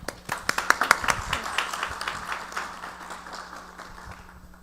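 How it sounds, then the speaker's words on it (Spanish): Applause from a forum audience welcoming a moderator to a panel on Indigenous rights, opening with distinct sharp claps that thicken into a moderate crowd clapping, then fade away toward the end. "a quien recibimos con un fuerte aplauso"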